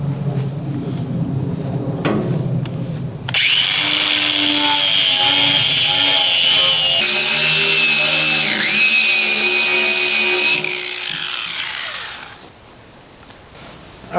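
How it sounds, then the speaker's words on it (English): A side grinder with a metal wheel sands down a leak on an old boat hull, a loud high-pitched whine running for several seconds with shifting pitch as it bites, then spinning down. "I'm gonna sand this down with my side grinder and a metal wheel"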